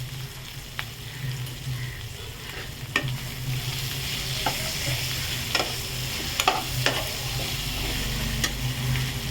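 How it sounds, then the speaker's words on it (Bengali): Ground spices with salt sizzle and fry steadily in a pan over medium heat while being stirred, with scattered scraping clicks of the spoon over a continuous hiss. "কিন্তু মিডিয়াম আঁচে আছে, আমি মশলাগুলো দিয়ে যেহেতু কষাচ্ছি"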